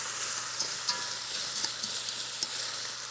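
Onions frying and being stirred in a pan with browned bits on the bottom while pork sirloin cooks, a steady close sizzle broken by a few light scraping clicks of the spatula.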